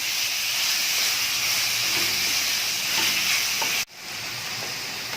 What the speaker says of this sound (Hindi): अब मैं इसमें कीमा ऐड कर दूंगी। इसको थोड़ी देर भूनें।